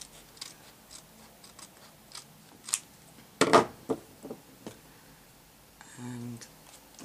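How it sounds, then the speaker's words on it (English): Several short, crisp snips of scissors cutting paper, spaced irregularly, with a brief rustle of handling near the end. "I'm just going to trim off what I can with the scissors."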